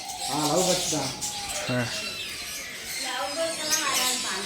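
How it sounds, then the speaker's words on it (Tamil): Lovebirds give high chirps and calls, partly masked by people talking nearby. "என்ன ப்ரோ இது லவ் பேர்ட்ஸா"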